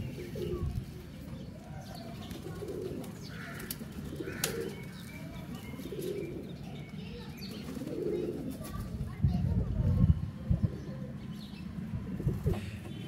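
Ferozpuri pigeons coo in low, repeated rolling calls with occasional wing flaps and chirps, while someone talks nearby through most of it.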